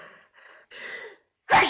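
A single sharp, loud sneeze bursts out at the end, after a few soft breathy intakes, close up in an old 1939 film scene.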